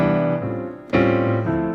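Jazz piano comping in a four-on-the-floor style, sustained chords struck close and fairly loud, with a fresh chord change about every half second and no talking.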